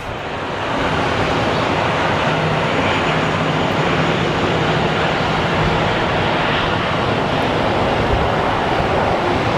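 A plane taking off at Phoenix Sky Harbor Airport: a loud, broad roar of jet engines building within the first second and then holding steady and powerful, with no voices over it.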